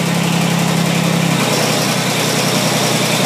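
Kubota BX2370 compact tractor engine idling near 1300 RPM, a loud, steady, close-up drone with constant vibration and a low hum dropping out midway.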